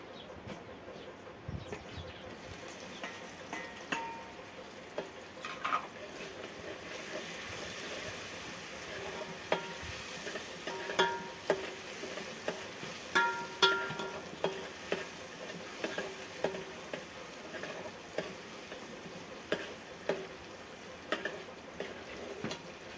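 Tomatoes tipped into onions frying in oil in an outdoor cooking spot, giving a faint, steady sizzle with soft stirring scrapes and occasional light clinks across the whole stretch, no voices present.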